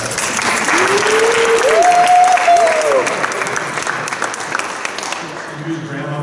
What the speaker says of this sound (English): And yes, this is a cheering contest.